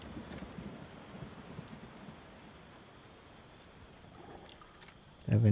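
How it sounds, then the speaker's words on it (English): Rain falls steadily in the video game Tavern Keeper, a soft continuous patter with a low rumble, fairly quiet and even, before a sudden louder sound at the very end. "It's raining."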